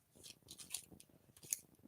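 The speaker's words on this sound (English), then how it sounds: "so I have to cut the tops off" Scissors snipping the top off a chocolate bar wrapper, a few quiet close crisp cuts with faint crinkling of the wrapper.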